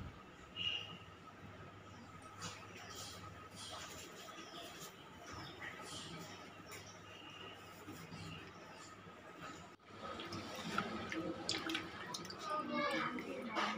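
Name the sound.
washing chicken pieces in water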